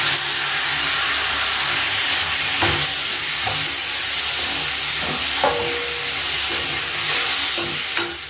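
Two medium-size tomatoes sauté for chicken varuval in a pan, a loud continuous sizzle and hiss with occasional knocks and scrapes of stirring, with no talking.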